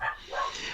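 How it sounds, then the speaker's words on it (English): A pet dog barks a couple of times indoors, a short, moderately loud yelp-like burst set behind a quiet room. "You can hear my dog in the background."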